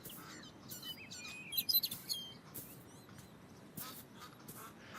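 Birds chirp in the video game Beyond Eyes: scattered, fairly faint high tweets and short calls repeat irregularly over a quiet outdoor ambience, with no talking.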